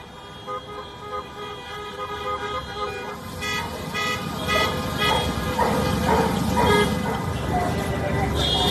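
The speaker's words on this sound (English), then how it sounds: "drivers staged an anti-lockdown protest, honking their car horns around the city hall" Car horns honk repeatedly from drivers staging an anti-lockdown protest circling Los Angeles city hall, overlapping toots building over steady traffic noise, with a dog barking and voices mixed in.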